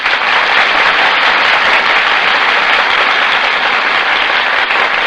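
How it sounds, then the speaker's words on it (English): Dense, sustained applause from a radio studio audience on a broadcast stage, loud and steady throughout with no voices over it. "That applause, ladies and gentlemen, is for Annabella and Tyrone Power"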